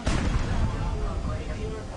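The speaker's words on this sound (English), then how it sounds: "The gunboats are now shooting back" Gunboats fire their guns in a naval battle, a loud close burst of booming blasts with rumbling, sustained noise that rolls on behind the shots.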